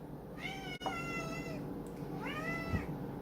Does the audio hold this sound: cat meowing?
yes